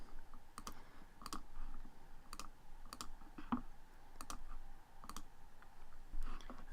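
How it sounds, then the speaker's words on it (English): A computer mouse clicks on search results in a quiet room, about eight to ten sharp, isolated clicks spaced irregularly over a faint background hum. "I'm going to click on the top 3 results."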